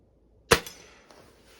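A single shot from a Gamo Swarm Hornet air rifle, one sharp, loud crack that decays quickly into a faint tail, followed by a soft distant tick about half a second later.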